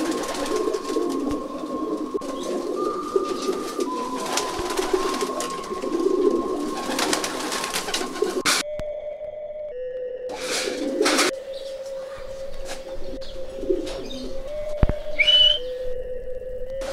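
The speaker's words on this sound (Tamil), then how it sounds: "சூப்பரான ஒரு புறா வளர்ப்பு ஏரியாவில் இருக்கும்." Homing racing pigeons coo at a pigeon loft, with soft, continuous throaty cooing mixed with steady tonal whistles and occasional sharp clicks throughout, at moderate level with no talking.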